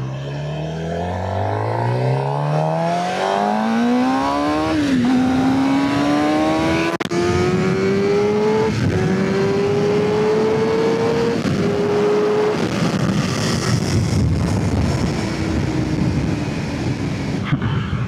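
Close, loud engine of a Suzuki GSX-R600 sport bike as it accelerates during a ride, revs climbing steeply through several gear shifts, then settling into a steady high drone with strong wind rush.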